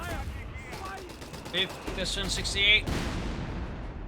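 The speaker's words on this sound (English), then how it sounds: "More bombardment here." Artillery bombardment in the real-time strategy game Company of Heroes 3 rumbles as distant booms and scattered gunfire crackle through a battle, heard beneath a commentator talking.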